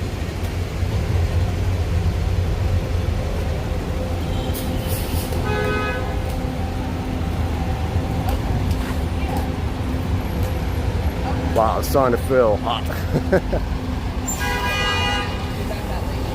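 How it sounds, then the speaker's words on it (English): Busy Manhattan street in New York City with steady traffic rumble and several car horn toots, a couple of clear honks standing out midway and near the end, while someone talks over the noise. "You see how the traffic keep going?"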